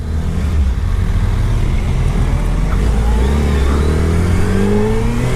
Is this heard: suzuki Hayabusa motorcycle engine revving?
yes